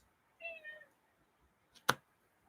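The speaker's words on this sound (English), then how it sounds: "Here's my cat starting to meow at me." A pet cat indoors gives a single short, fairly faint meow, followed about a second later by a sharp, isolated click in an otherwise quiet room.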